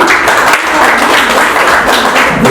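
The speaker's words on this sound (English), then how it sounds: "So a big round of applause for Rayvanny" A dense, steady wash of crowd clapping from an audience welcoming the artist Rayvanny, loud and continuous throughout with no gaps.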